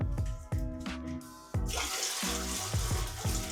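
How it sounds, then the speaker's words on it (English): Dirty mop water pours into a toilet with a rushing, splashing gush after a few clunks and drips, close and fairly loud. "I'm gonna go dump the water out in the toilet"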